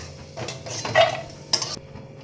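Cashew nuts frying in a pan are stirred with a utensil, giving a few short metallic scrapes and clinks over a faint sizzle, close and quiet, with no talking.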